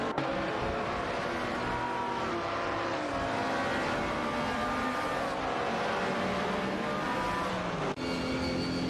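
Race car engines, a Porsche 718 Cayman GT4 and an Aston Martin Vantage GT4, drone and whine in a racing video game, sustained tonal engine notes shifting pitch as several cars run together at moderate volume.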